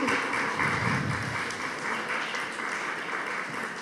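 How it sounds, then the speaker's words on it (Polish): An audience at a school year-end ceremony applauds two female vocalists, producing a dense, even wash of clapping that holds steady at moderate distance throughout, with no one speaking over it. "gorące brawa dla wokalistek"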